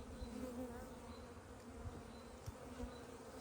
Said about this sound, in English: some of the bees are flying around my head